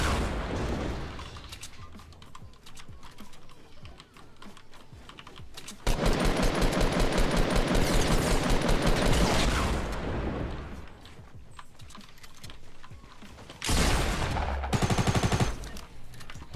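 A shooter video game with a new carbine and bazookas fills with dense rapid gunfire: long rattling automatic bursts, scattered single shots and booming impacts, loud and continuous with brief lulls and no talking.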